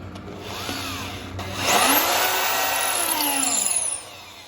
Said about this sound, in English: So that's the point where it will catch your drill bit if you are not careful.